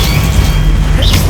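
A Confringo blasting spell bursting in the video game Hogwarts Legacy, a loud, heavy booming explosion with a rumbling crash that fills the whole short moment.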